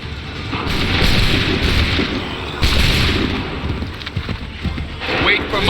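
Cannon blasts and musket gunfire in an Assassin's Creed 3 battle, a dense, loud barrage of booms and cracks rolling continuously with noisy battlefield ambience and shouted voices over it.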